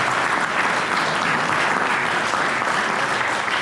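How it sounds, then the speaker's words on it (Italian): Audience applause at an Italian book presentation about Formula 1, a steady dense round of clapping from a full room lasting throughout, close and loud with no talk over it. "Io un altro applauso lo farei."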